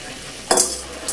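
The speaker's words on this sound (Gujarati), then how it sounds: "આપણે હવે તેને મિક્સ કરીશું." Stirring fried gathiya into a simmering gravy in a pan, with a short burst of scraping and sizzling midway and a brief second stir near the end, heard close and without voices.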